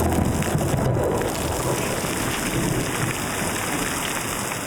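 Steady, dense roar of heavy rain and hail hammering down during a thunderstorm, with low rumbling underneath and a constant wash of noise throughout, close and loud with no voices.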